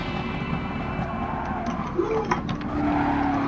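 In Gran Turismo Sport, a Gr.3 race car trail-brakes down the downhill section at Bathurst, its engine droning steadily while tires briefly squeal and scrub as it turns in.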